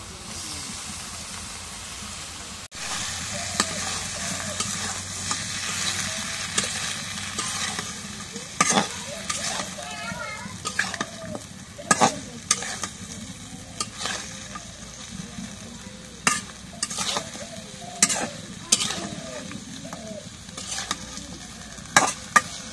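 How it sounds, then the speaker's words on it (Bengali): Golsa tengra fish is stirred into cooked spice paste in a pan, giving a steady sizzling hiss broken by repeated scraping strokes of a spatula. The sound is close and continuous, with no talking. "এখন মাছগুলো ফেলে দিয়ে দিয়ে একটু কষাই আমি।"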